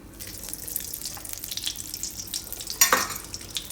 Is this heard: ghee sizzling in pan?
yes